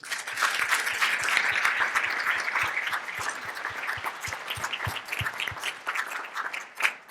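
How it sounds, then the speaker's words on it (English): An audience at a choral master class applauds two vocal ensembles, a moderately sized crowd clapping steadily in a hall, with a few sharp close claps standing out as the applause gradually thins. "could we give the two ensembles another round of applause, please?"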